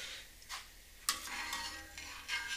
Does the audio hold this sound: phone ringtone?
no